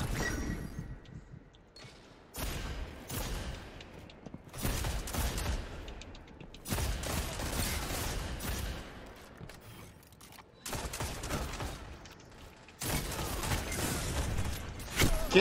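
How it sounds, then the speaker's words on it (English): Gunfire from Destiny 2 gameplay, mixing the Thorn hand cannon with auto rifles, comes as loud repeated bursts and rapid volleys spread through the stretch, with short lulls between them and no voices over the shooting. "can't shoot with the thorn very well. I like auto rifles better in this game."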